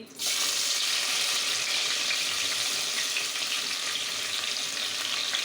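Onions and green chillies frying in a pan of oil and ghee for a chicken dum biryani, a loud, steady, close hiss and sizzle that starts abruptly and holds unbroken.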